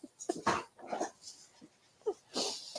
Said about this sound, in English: My chihuahua is down there playing with a little ball to exercise his doggy brain